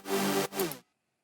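Main section of an electronic drop built in FL Studio with default plugins: a dense, bright synth chord with a rich harmonic stack, briefly cut near the middle, then stopping abruptly into silence within a second.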